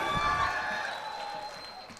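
Faint, distant clapping from a mushaira audience, fading over a couple of seconds, with no talk over it.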